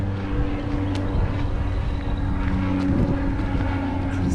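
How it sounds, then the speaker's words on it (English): A seaplane's engine drones steadily and loudly throughout in Belize, a constant rumbling roar with a faint tonal hum and no breaks. "Seaplane"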